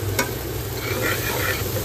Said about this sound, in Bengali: তো পেঁয়াজটাকে এখন নাড়তে থাকতে হবে, নাহলে কিন্তু তলা লেগে যেতে পারে।